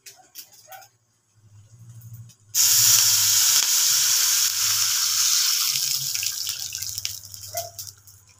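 Water poured into a cooking pot for gravy, a strong, steady rushing splash starting abruptly after a few quiet kitchen clinks and a low hum, continuing to the end.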